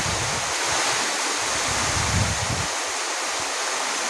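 Torrential rain falls nonstop on a village, a thick even hiss that stays constant for the whole stretch, with faint low thuds underneath and no one speaking.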